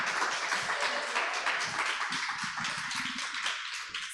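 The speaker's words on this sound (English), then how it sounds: "I think she deserves a round of applause." An audience at a storytelling event claps, a moderate, somewhat scattered patter of hands that stays fairly even, with faint voices murmuring underneath.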